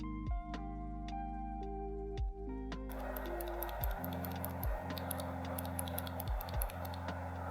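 Clicky keystrokes on a Redragon Fizz 60% keyboard with hot-swappable Outemu Blue switches, sounding as sharp, irregular taps spaced apart over a steady tonal backing that grows busier halfway through.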